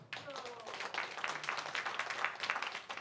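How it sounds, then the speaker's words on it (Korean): Soft applause from children and teachers in a church gathering, a faint patter of many hands clapping together at a distance, with some voices mixed in. "박수 한번 해줘요"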